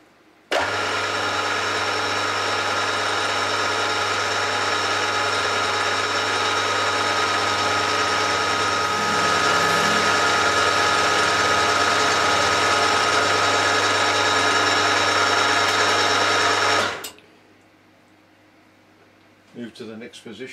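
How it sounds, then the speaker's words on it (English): A drill runs steadily for about seventeen seconds boring a hole in a metal indexing ring, a loud continuous whine with a strong hum, then stops abruptly and leaves faint workshop noise. "So that's the spacing, so I'll lock that up there and drill the next hole."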